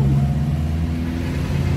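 Public street traffic in Siantar, Indonesia, on a hot day: a steady, close rumble of passing vehicle engines holds through the moment with no talking.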